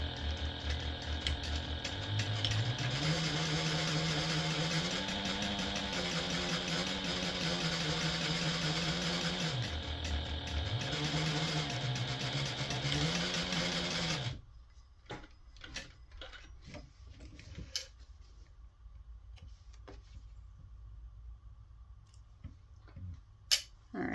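A sewing machine runs a 1/8 inch seam on a binder cover fold, a steady mechanical whirring hum of stitching for about fourteen seconds with brief speed dips, then stopping, followed by faint handling clicks and taps.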